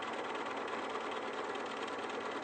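A sewing machine stitching steadily, a continuous even mechanical whirr and buzz at constant speed, close and without pauses.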